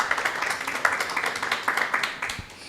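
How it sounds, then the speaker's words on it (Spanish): Modest applause from a small audience at an academic discussion gathering, with distinct individual claps in a loose rhythm, fairly quiet and fading slightly toward the end. "Un aplauso para ellos, por favor."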